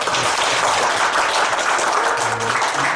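Audience members at an education society's annual general meeting applaud in a steady, dense wash of clapping that holds at an even level throughout, with faint murmurs beneath.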